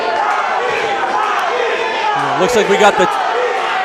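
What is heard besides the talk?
crowd cheering behind fighter Tony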